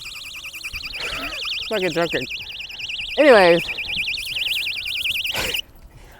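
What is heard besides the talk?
keychain personal alarm sounding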